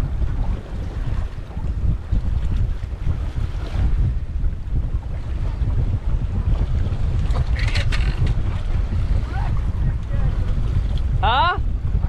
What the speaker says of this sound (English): Pretty breezy out here today, to be honest with you.